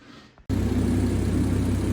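A Volkswagen VR6 engine, freshly fitted with a new timing chain, fires up abruptly after a quiet moment and settles into a steady, even mid-pitched rumble at close range.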